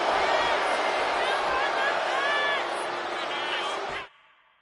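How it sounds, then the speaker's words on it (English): A dense virtual crowd roars steadily for Rey Mysterio during an I Quit match in the WWE 2K26 wrestling game. The loud, continuous cheering cuts off abruptly near the end. "Mysterio drawing a big reaction from the crowd."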